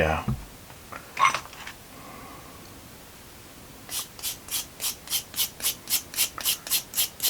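File rasping plastic in a run of about fourteen quick, even, bright scraping strokes near the end, after a quieter stretch with faint handling noise.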